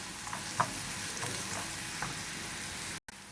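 Onion frying in a pan with garlic being added, a steady bright sizzle with a few soft scraping stirs, then a sudden brief dropout near the end.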